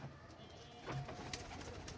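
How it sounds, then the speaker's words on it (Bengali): Pigeons at a garden farmstead cooing softly, a few low murmuring calls against faint background noise with some brief sharp sounds, no talking. "এখানে অনেকগুলো কবুতর।"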